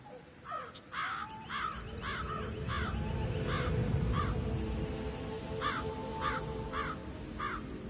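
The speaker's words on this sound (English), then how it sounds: "Damn birds!" Crows caw in a loud series of harsh calls, roughly a dozen spaced across the stretch, some overlapping, close and clear over a steady background hum with no talk.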